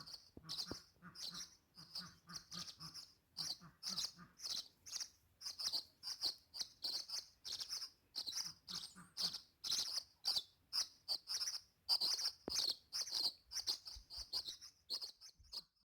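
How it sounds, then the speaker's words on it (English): Small birds chirp and tweet repeatedly around a birdhouse in a garden with goats, a quick run of sharp, fairly close calls with little else behind them. "So I have birds flying all around me."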